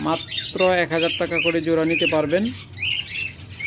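Caged pet birds, a mix of lovebirds, cockatiels, mynas and doves, chirp in short high bursts, faint beneath someone talking at first, then clearer once the talking stops.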